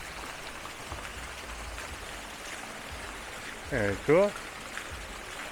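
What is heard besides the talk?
water features on Vancouver Seawall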